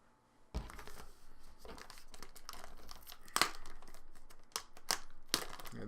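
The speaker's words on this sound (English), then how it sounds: "we'll get to opening the playmats" Plastic-wrapped playmats being opened from a package, with close, irregular crinkling and tearing of plastic wrap, sharp crackles and rustles coming in bursts over a quiet room and no talking.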